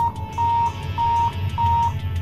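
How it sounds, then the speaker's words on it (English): A radar blind spot monitoring alarm in a car, set off by the turn signal, sounds as a series of steady mid-pitched electronic beeps, four tones in a regular on-off rhythm over a low engine hum. "Activating the left or right turn signal triggers an audible alarm"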